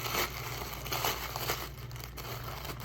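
A layer of light pink paper peeled apart for a paper flower, with close, soft crinkling and a faint tearing rustle in short bursts.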